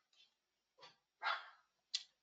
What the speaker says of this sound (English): let me just shut my dog up.